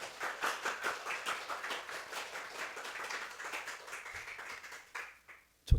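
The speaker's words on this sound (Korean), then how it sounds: "우리 두 모녀를 축복하며 박수 한번 할까요?" A church congregation claps together during a Friday worship service, a dense, steady patter of many hands lasting several seconds before fading out near the end.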